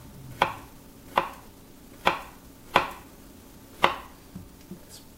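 A knife chops squash into very fine, thin slices on a board. Five crisp, evenly spaced thuds come about one per second, close and clear, followed by a couple of softer taps, with no speech.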